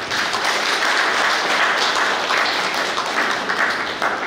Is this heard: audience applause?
yes